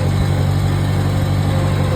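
A Farmall 140 tractor engine runs close and loud, holding a steady, throbbing drone at raised RPM with no pauses.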